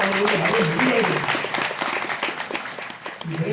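Applause from a crowd at a speech at a Digambar Jain temple event in Sarapur, a dense crackle of clapping that mixes with a speaking voice at first and then continues steadily.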